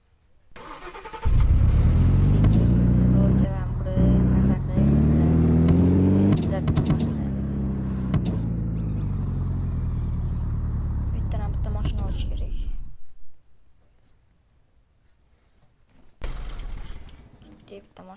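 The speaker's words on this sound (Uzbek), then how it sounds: "mashinani haydaylik" A car engine in the Roblox game Car Flipper runs loudly and steadily for several seconds with shifting revs, then cuts out to near silence before briefly resuming; someone talks over it.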